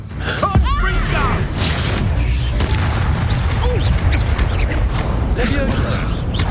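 Confringo fire spells blasting in the video game Hogwarts Legacy: loud, booming explosions with crackling debris, layered over continuous dense battle noise and game effects throughout.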